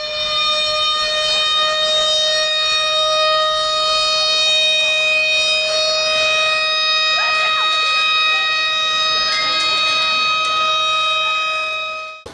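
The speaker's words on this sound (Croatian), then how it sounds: "Vježba je započela zvukom sirena u ulici Branilaca Bosne u" Civil defense sirens wail loudly and steadily in a street during a Red Cross emergency exercise in Lukavac, a continuous piercing tone holding for the whole stretch with faint background noise.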